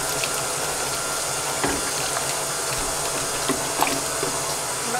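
About 1.5 litres of stock pour steadily into a cooking pot, making a continuous watery splashing and trickling at moderate volume, with a few faint clinks along the way.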